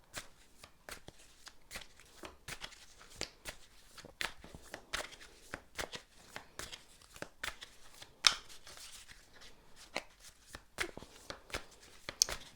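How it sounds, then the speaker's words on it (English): Tarot cards being shuffled repeatedly, quick crisp riffling bursts and soft slaps in an irregular rhythm, close and fairly quiet. "I'm gonna shuffle, see what the cards have to say."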